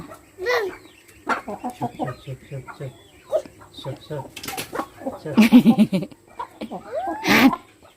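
Rice-fed chickens cluck and squawk around a playing child, short irregular clucks and a louder rising squawk, close by and mixed with people talking.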